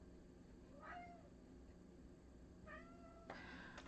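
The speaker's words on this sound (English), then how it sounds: "oh, sorry about the cat." A house cat meows quietly indoors, two short rising calls followed by a brief scratchy rustle, faint and alone against a low room hum.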